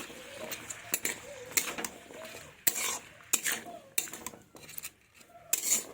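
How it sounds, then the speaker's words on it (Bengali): Bottle gourd sour curry made with jujube is stirred in a pan. A spoon scrapes and clatters against the metal in quick, irregular bursts, with soft sizzling between the strokes, close and fairly clear. "ভালোভাবে নাড়াচাড়া করে নেব।"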